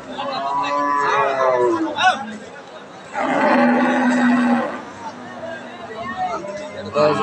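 A cow lows loudly and nearby at a busy cattle market, one long drawn-out moo rising over a constant murmur of people talking and milling around.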